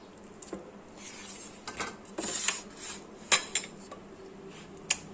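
Boneless mutton going into a cooking pot for dum biryani brings scattered metallic clinks and clatters of utensil against pot, irregular and close, with soft shuffling between the knocks.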